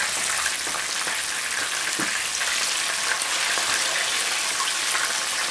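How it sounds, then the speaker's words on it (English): Chicken wings fry in hot oil under a covered pan, a constant dense sizzle and crackle holding steady and close throughout. "I'm going to fry them with the cover on first for 5 minutes"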